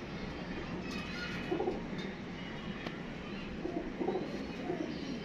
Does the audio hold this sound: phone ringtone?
no